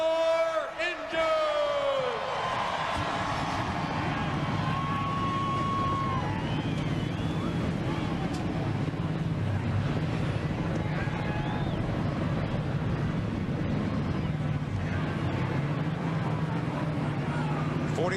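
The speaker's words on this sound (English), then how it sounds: "43 cars roar to life on pit road at the Lowe's Motor Speedway" Forty-three race cars start up together on pit road at Lowe's Motor Speedway for the 2006 Dollar General 300, a dense continuous engine roar over crowd noise and wind, with a voice talking over it.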